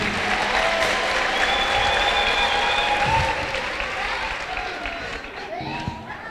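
A church congregation ululates in praise, high trilling cries rising over a dense wash of crowd noise, cheering and clapping, with voices mixed throughout.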